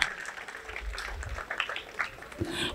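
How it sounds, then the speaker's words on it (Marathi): Audience applause at a science exhibition show, a short burst of clapping mixed with crowd murmur and voices, moderately loud and steady for a few seconds. "टाळ्या."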